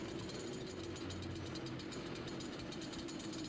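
A chainsaw in the video game Doom runs with a steady, dense mechanical roar, a continuous buzzing drone held at constant loudness without breaks.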